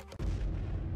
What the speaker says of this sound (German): Oh Gott, der Motor ist explodiert.